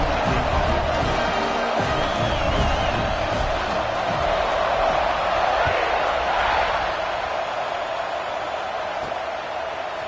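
Football stadium crowd roaring at a kickoff, a dense sustained wall of cheering and whoops that stays loud and steady throughout, with a commentator's voice talking over it.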